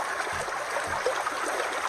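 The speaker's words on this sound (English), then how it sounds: "this water sound might be covering you up" A stream runs steadily close by as a continuous, loud broadband rush and gurgle with no pauses and no voices.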